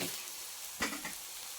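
Ragi dibba rotti, a thick finger-millet flatbread with green chilli, cumin, carrot and ginger, sizzling in a covered pan as a steady soft frying hiss, with one brief louder crackle.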